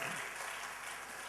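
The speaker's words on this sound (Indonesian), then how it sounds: "Tepuk tangan buat Allah kita." A church audience claps in praise, a faint, continuous patter of many hands filling the short moment evenly.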